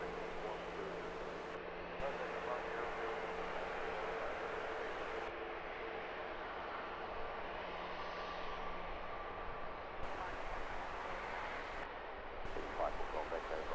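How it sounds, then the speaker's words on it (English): An EasyJet Airbus A320neo departs from Luton Airport at sunrise, its engine roar a steady, broad rumble held at moderate distance for the whole stretch, with talk faintly present beneath it. "this latest EasyJet A320neo departure"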